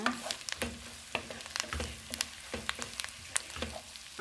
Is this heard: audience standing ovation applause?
no